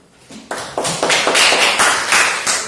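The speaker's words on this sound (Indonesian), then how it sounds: "kita beri aplaus untuk kelompok 3" Applause from a classroom audience for a student group, starting as a few scattered claps and quickly building into dense, close hand clapping that stays strong to the end.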